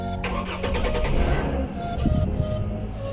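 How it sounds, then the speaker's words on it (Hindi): A car engine starts up from inside the vehicle with a brief cranking burst that catches into a steady idle rumble, loud and close, with no talk over it. "स्टार्ट कर दे गाड़ी"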